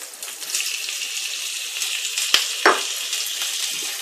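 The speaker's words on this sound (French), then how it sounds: "Je vais rajouter à cette préparation la tomate que j'ai hachée" Chopped tomato tipped into onions already frying in oil, giving a steady broadband sizzle throughout, with a couple of sharp spatters and stirring clicks partway through, close and alone with no voices.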